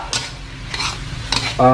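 Fish sauce hits the edge of a hot wok with a bright sizzle, alongside repeated metal scraping of a utensil stirring the stir-fry in the wok.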